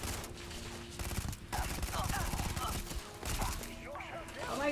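Gunfire rings out in the video game Starfield, several bursts of rapid shots cutting through background game sounds and a voice, moderately loud and uneven in rhythm.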